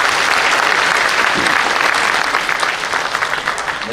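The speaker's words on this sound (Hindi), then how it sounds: "ताली वाली बजाओ तो महाराज के शब्दों में बजाओ" Audience applause at a regional industry conclave, a dense, loud burst of many hands clapping together, sustained evenly for several seconds before tapering slightly.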